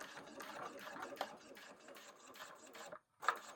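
A sewing machine stitches along a leather crossbody bag strap with a steady mechanical rattle that runs for about three seconds. It stops briefly, then starts again in a short burst, close and moderately quiet.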